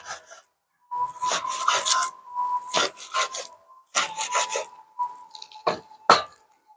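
A knife saws through well-cooked grilled carne asada seasoned with smoked wine salt, giving a close series of scraping, rasping strokes in uneven bursts with short pauses between cuts.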